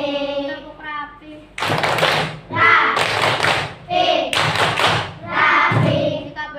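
Children in an Indonesian primary classroom perform a rhythmic clapping routine, short bursts of hand claps alternating with brief chanted words, loud and close in a small room.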